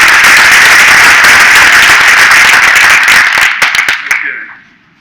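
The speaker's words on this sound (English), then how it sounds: "I'm going to give you a big round of applause." Audience applause at a 2024 House District 12 Republican candidates forum: dense, steady clapping from a crowd that holds strong, then thins to a few loud claps near the end and fades out.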